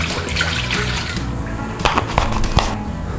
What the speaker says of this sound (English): and we want some water in our wok.